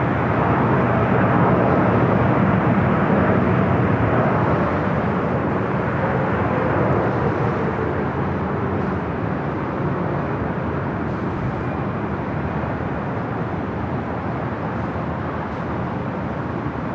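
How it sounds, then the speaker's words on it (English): A Boeing 747 airliner landing on runway 25 left at Los Angeles International Airport: a loud, sustained jet roar that fills the whole stretch and eases off slightly toward the end. "we do have a Queen landing on the 25 left"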